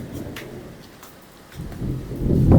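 Thunder rumbles low through a heavy downpour, swelling into a louder roll toward the end over the steady wash of rain.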